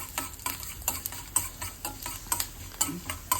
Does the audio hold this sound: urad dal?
yes